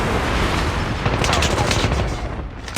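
Rapid AS VAL rifle fire in a Call of Duty match, dense loud automatic bursts crackling continuously with a few sharper cracks, close and heavy throughout the short stretch.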